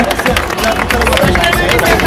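A crowd applauds a runner-up being announced at a beauty pageant, a steady wash of clapping and murmuring voices held at an even, fairly loud level throughout.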